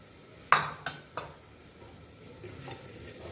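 A spoon clanks and scrapes against a pan while spices are stirred and roasted for kaddu chola, a few sharp metallic knocks followed by a quiet, faint sizzle.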